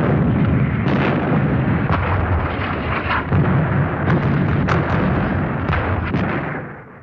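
Russian artillery firing on Berlin in the Second World War, heard as a continuous roar of distant barrage with repeated heavy booms and sharp bursts that fade away at the end.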